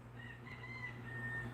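A rooster crows, a drawn-out, tonal call that sounds somewhat distant and faint over a low steady background hum.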